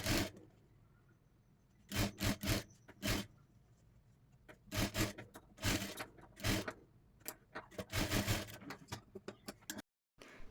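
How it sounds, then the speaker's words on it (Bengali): Bursts of a domestic sewing machine top-stitching along the main border of a puffed sleeve, several separate runs of a few seconds each with quiet handling gaps between them, close and fairly soft. "এখন এইভাবে মেন পাড়ের ওপর থেকে একটি চাপ সেলাই দিয়ে নেব।"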